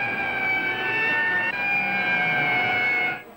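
An ambulance siren from 1937 holds a steady, loud wailing tone with a brief dip partway through, then fades out abruptly at the end, with no talking.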